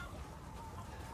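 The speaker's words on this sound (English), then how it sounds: "Chickens." Chickens clucking in the Resident Evil Village video game, a faint, steady run of soft clucks with no pauses, set low against a dense game-ambience bed.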